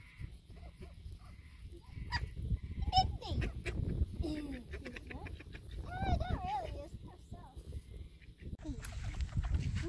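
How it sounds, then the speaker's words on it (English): Ducks at Lake Tinaroo, just fed, quack and honk in scattered bursts nearby, mixed with low rumbling noise and occasional voices in the background. "just fed the ducks"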